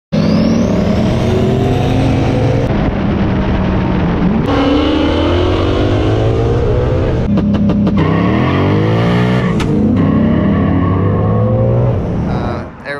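A Ford Shelby GT350 (S550) engine revs and pulls hard through repeated rising sweeps at close range, with loud, continuous drive sound and a possible tire squeal, tapering off at the end.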